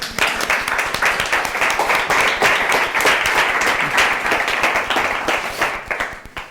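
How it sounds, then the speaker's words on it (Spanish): A group applauds a person on stage during a talk, with dense steady clapping that stays loud throughout and only begins to thin out near the end. "un aplauso para José."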